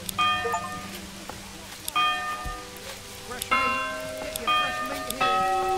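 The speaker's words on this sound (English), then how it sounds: "Church bell sound." A church bell tolls in the medieval city-building game Manor Lords with several separate ringing strikes and lingering decay. A soft, rain-like ambience runs underneath.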